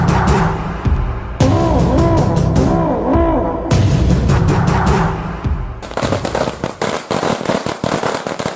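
Loud bursts of rapid gunfire crack in repeated volleys, separated by short pauses, with a denser rattling barrage at the end.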